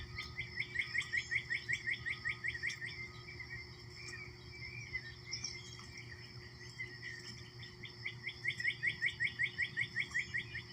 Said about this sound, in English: the birds were pretty rowdy this morning, perhaps because it's springtime and they're looking to impress one another